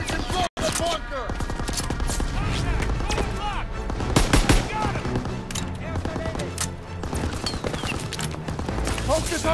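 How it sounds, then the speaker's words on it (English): Gunfire from the trenches on a World War II battlefield in Call of Duty: WWII, rapid crackling volleys and machine-gun bursts firing nonstop, loud and near, with shouted voices mixed in. "Fire's coming from the trenches!"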